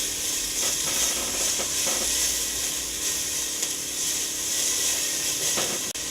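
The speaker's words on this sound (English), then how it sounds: "we'll add our onion. We'll let that cook for a little bit" Onion frying in olive oil in a pan for chili con tofu, a steady broadband sizzle and hiss holding through with small crackles and no talk.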